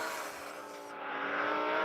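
Car engine in a mobile driving game, a bright synthetic whine that rises as the car speeds up over a couple of seconds, loud and steady with no talk over it.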